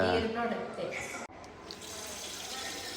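Tap water runs into a vessel in a sink at home, a loud gushing stream that breaks off abruptly, then a quieter steady trickle continues.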